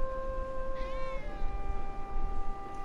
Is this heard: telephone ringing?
no